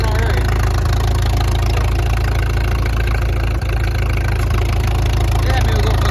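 An antique John Deere tractor engine runs steadily at an idle with a dense, continuous low rumble, loud and close, at an antique power show.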